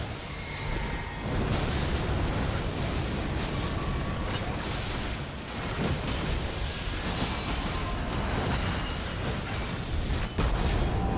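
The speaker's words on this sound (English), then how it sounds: "Finishing it off with a giant explosion." A giant explosion in the Elden Ring Nightreign video game finishes off an enemy, with loud, dense rumbling blasts and crashing effects that roll continuously, ending in a sharp final burst.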